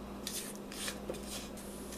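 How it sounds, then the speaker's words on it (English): A spatula scraping down the bowl of a stand mixer partway through a pecan and chocolate chip pound cake batter, with eggs being added; soft rasping strokes come in short bursts over a steady low hum, close and fairly quiet. "I'm going to stop and I'm going to scrape down the mixer real good."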